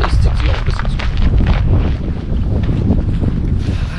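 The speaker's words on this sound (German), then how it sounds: "Und dann wird es gerade stürmisch." Strong gusty wind buffets the microphone outdoors at a lost-places site with Russian monuments in Fürstenberg as a storm rolls in, a loud, continuous roar with rumbling low-end surges and no speech.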